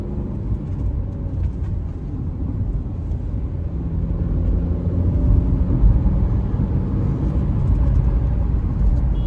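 A Tata Curvv diesel automatic with a DCA transmission cruises along, its engine and road noise a steady low rumble from inside the cabin that swells slightly as it pulls ahead.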